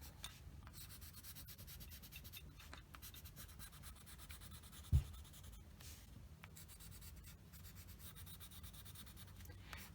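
A colored pencil shades over oil pastel on paper, giving a soft, continuous rubbing scratch in repeated strokes, quiet and close, with one brief louder tap midway.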